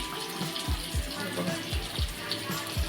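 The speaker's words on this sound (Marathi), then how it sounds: "आता आपण याच्यामध्ये पाणी टाकणार आहोत" Water is poured into a simmering Maharashtrian rawas fish curry, a steady watery wash running under a series of soft, regular thumps from the pot.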